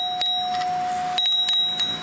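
An old Friedland Type 4 doorbell chime rings twice, each time a clear ding dong with bright sustained tones and a sharp strike at the start, close and moderately loud, alone.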